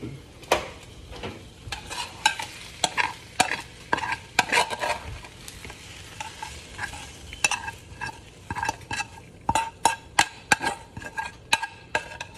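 Chorizo frying in a pan, with a steady soft sizzle under repeated sharp scrapes and clinks of a utensil stirring against the metal, coming in irregular bursts, close up and with no talking.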